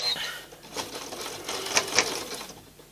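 Sewing machine running in short bursts while stitching a fabric appliqué on a Valentine table runner, with a voice talking over the steady mechanical whir and a few sharper clicks.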